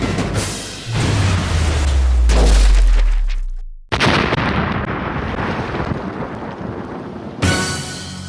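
Missile launch from an Indian Navy warship: a sharp ignition burst swells into a loud, deep roaring rush lasting a few seconds, then cuts off into a long fading hiss and rumble, with a brief renewed burst at the end.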